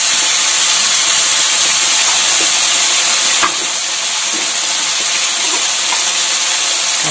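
Onion, garlic and turmeric fry in hot oil for a Bengali loitka dried-fish dish, giving a loud, steady sizzle with faint stirring scrapes. The sizzle drops slightly about halfway through.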